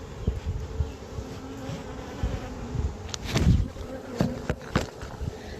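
Honey bees hum around fresh comb in hive frames at an outdoor garden apiary, a steady buzzing bed with close wing flicks and brief knocks against the frames, with no talking.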